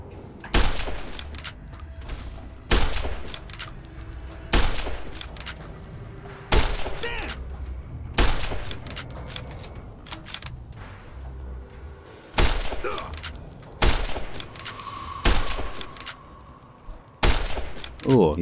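Rifle shots in Fallout New Vegas, with sharp, loud single reports spaced a few seconds apart across the stretch, over quiet game ambience and intermittent talking.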